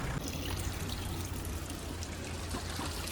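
Drinking water flows steadily at a village spring in Nepal, a constant close rush and trickle with no pauses.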